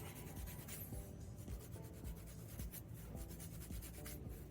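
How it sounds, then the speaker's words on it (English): Quick sanding of a small hardened fabricated part for a Suzuki Samurai, soft rhythmic rubbing strokes repeating close up and fairly faint, with no voices. "so now if we sand that"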